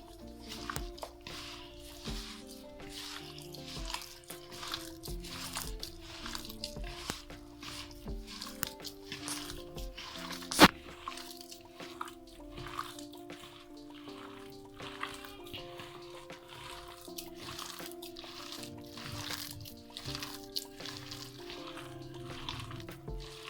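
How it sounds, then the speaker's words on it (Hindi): Chicken chapli kabab mixture with egg is kneaded by hand in a bowl, making soft, wet squelching and squishing in a steady rhythm, close and fairly quiet, with no voices. "चलिए जी, अब सब चीज़ों को मैं हाथ से अच्छे से मिक्स कर लूंगी।"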